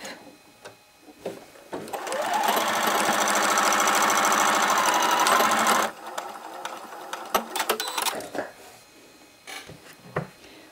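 A sewing machine stitches a fabric face mask: a steady, close whirring run of rapid needle strokes lasting several seconds, then a stop followed by faint handling clicks and fabric rustle.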